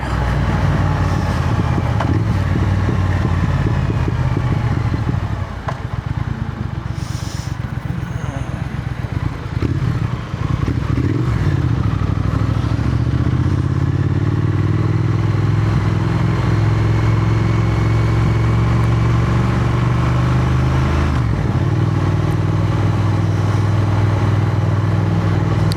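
A Triumph Thruxton motorcycle engine runs at a steady, loud, close rumble the whole time, with some throttle variation partway through and voices talking over it.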